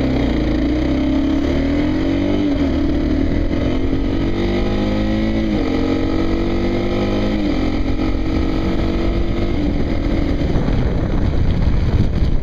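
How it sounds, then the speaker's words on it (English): A Kawasaki KLR motorcycle engine runs with a loud, low, steady drone, heard under heavy wind buffeting on the microphone, with gentle shifts in pitch throughout and no talking. "I'm idling where I'm supposed to be, but it just sounds so much lower."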